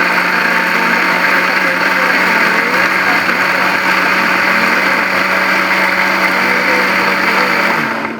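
An electric blender grinds spice paste for an egg, anchovy and stinky bean dish, giving a loud, steady high whirring drone that runs without a break before cutting off at the end.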